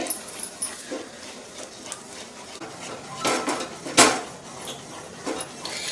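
Thick Karachi halwa being stirred continuously in a pan, with scattered clinks and scrapes of a spoon against the metal, one sharper clatter standing out among quieter stirring sounds.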